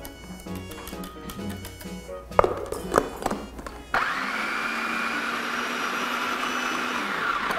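A kitchen blender or food processor grinds vegetables finely for meatloaf, starting with choppy pulsed bursts and clattering, then settling into a steady, continuous whir for the final few seconds.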